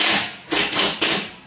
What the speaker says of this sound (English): If you're doing hand nailing, sometimes you come in here and you put that nail in there.